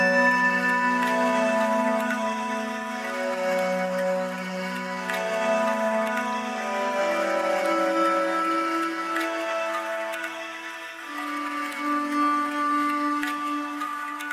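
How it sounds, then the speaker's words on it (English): Orchestral string elements layered over an atmospheric pad in a mellow, melancholic electronic arrangement: sustained, overlapping chords that shift slowly and steadily for the whole stretch, with no voices. "Our string elements together with the atmosphere from the beginning sound like this."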